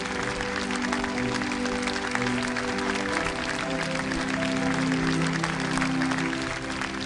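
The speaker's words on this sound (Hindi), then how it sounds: "जोरदार तालियों से इनका स्वागत कीजिए" Crowd applause welcoming the local MLA to the stage at an event, sustained dense clapping with a faint musical tone beneath, steady throughout.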